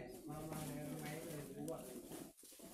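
A plump pet dove or pigeon coos in steady low repeated phrases close by, running under continuous talk throughout.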